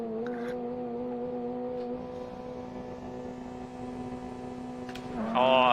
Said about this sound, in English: Oh, I hear the turbo build.